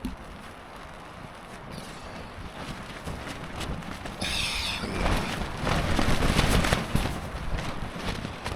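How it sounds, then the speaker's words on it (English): Powerful hurricane wind roaring across a mountaintop campsite, loud and broadband, swelling into stronger gusts midway with a brief sharp flutter of a snapping tarp, no voices. "It's the same kind of wind that took my other tarp, that snapping, very powerful winds"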